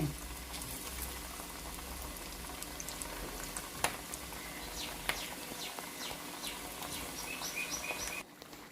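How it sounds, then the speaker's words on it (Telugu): Chopped onion and green chillies frying in hot oil for a chethi chekkalu snack produce a soft, continuous bubbling hiss with a few sharp crackles and pops. Faint bird chirps sound in the background. "పచ్చిమిరపకాయలు టప్టప్లాడుతాయండి, కొంచెం జాగ్రత్తగా వేసుకోండి"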